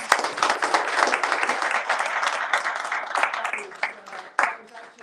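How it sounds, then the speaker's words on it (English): Crowd applause at an entrepreneurship event, many hands clapping continuously, fairly loud and close, swelling and tapering over several seconds with a few sharper bursts near the end. "Can we just give them a round of applause?"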